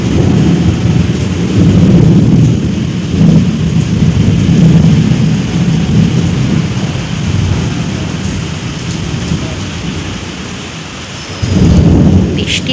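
Loud, rolling thunder rumbles repeatedly over steady light rain pattering on surfaces in still, windless air, with deep swells near the start and again at the end.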